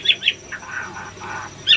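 An oriental magpie-robin, or murai batu, gives a few short, bright chirps at the start and again at the end, with faint calls in between over a quiet background.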